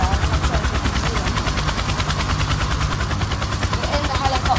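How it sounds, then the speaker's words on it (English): Helicopter in a video game, flying low over buildings before going down, with a continuous loud rotor thrum and steady engine roar throughout, joined by rapid repeating clatter like gunfire in the mix. "We're in the helicopter. And we're going down."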